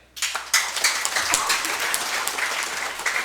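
An audience at a church convention breaks into applause for a choir, the clapping rising quickly and holding as a dense, steady patter.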